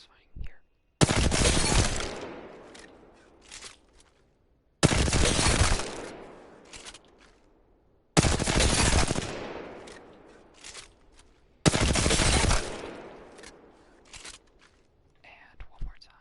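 Light-ammo weapons fire in the Apex Legends firing range, four dense bursts of rapid gunfire each lasting about a second and a half, spaced a few seconds apart with quiet gaps and faint clicks between.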